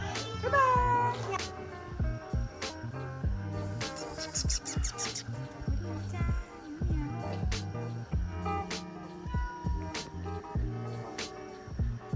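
A cat at a countryside resort in Suan Phueng meows repeatedly in short, close calls, mixed in among other busy background sounds.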